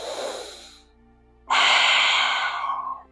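Deep breathing during a yoga flow, one slow audible exhale, a quiet pause, then a long loud breath close to the microphone, with no talking.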